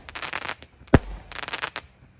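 Jumbo roman candle fireworks burst off at night in rapid crackling pops, with one sharp loud bang in the middle and further crackles after, close by.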